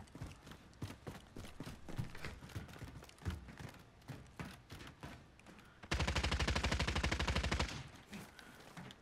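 Video game gunfire in a battle-royale match: scattered sharp shots through the first part, then a loud, rapid automatic burst of nearly two seconds, close by, followed by more scattered shots.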